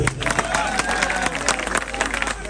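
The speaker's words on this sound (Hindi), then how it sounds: "सब लोग एक बार ताली बजाएं।" Audience applause at a mahfil gathering in Lucknow, a steady wash of clapping with some crowd noise that fills the whole short stretch at moderate loudness.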